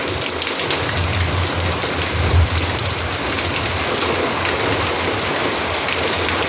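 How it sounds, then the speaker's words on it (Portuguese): Heavy rain pours steadily onto an orchid collection, a dense continuous hiss at close range with a faint low rumble underneath and no voices. "A chuva tá muito forte."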